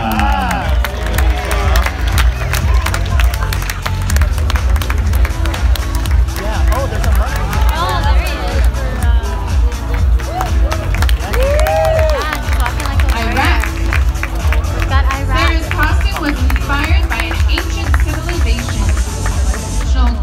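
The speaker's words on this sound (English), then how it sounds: "Give a round of applause for this costume with a cause, Indonesia" An audience at a national costume pageant cheers and claps over a loud, continuous crowd roar, with amplified voices and babble running through it and occasional shouts standing out.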